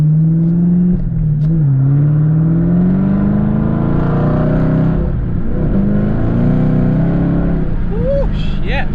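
A Chevrolet Camaro ZL1 1LE engine drones close up from inside the cabin, its pitch rising steadily, dipping briefly midway, then climbing again as the car accelerates.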